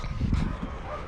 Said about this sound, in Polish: Czego ten pies szczek?